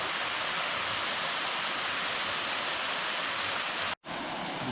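Gualala Falls waterfall on a creek hike pours as a loud, dense, unbroken roar, cut by a brief dropout near the end before the rush resumes.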